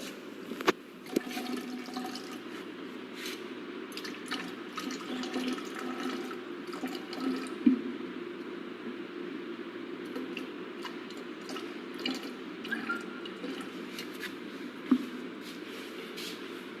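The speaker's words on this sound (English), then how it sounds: "Now we will measure" Water is poured into a measuring container to reach 132 ml for mixing with cement, a steady, fairly quiet trickling stream running throughout with a few brief clicks and knocks.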